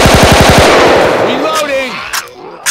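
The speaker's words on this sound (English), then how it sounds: "You shoot the shit out of it." Automatic gunfire rakes a house in a video game, a loud rapid burst of shots that trails off into echoing ringing tails, followed by a couple of sharp short clicks.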